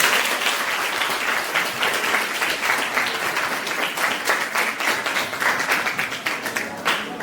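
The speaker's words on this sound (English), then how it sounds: "let's clap our hands for them" Applause from an audience at a school debate competition between two academies, steady dense clapping held at a loud level for several seconds.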